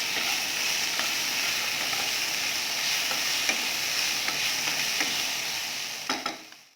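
Capsicum sautés lightly in a pan with a steady, even sizzle, punctuated by occasional soft stirring clicks, before the sound fades away at the end.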